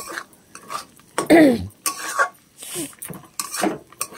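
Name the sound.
stirring vegetables frying in a pan on low gas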